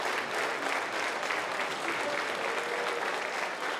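A wrestling arena crowd at a Ring of Honor women's championship match applauds steadily and loudly, a dense, continuous wash of clapping and cheering with no break.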